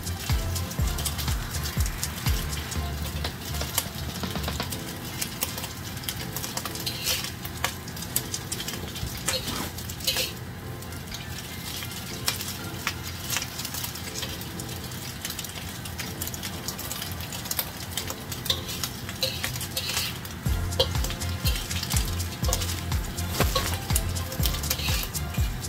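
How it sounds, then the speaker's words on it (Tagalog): Slices of luncheon meat frying in hot oil toward golden brown, a continuous dense sizzle with scattered crackles and pops, steady and close throughout. "tutuin ko muna yung aking luncheon meat. Para siya medyo golden brown."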